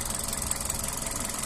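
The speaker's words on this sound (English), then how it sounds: "engine sound very nice and smooth" A Toyota Avensis 1.8 VVT-i petrol engine idles steadily and low, running evenly throughout, with a faint regular rattle and no voices.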